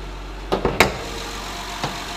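A 2015 Honda Pilot four-wheel drive with a 3.5-liter J-series V6 idles steadily with a low, even hum, broken by a few sharp clicks and knocks nearby.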